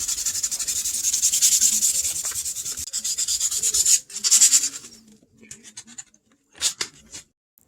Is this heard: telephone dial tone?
no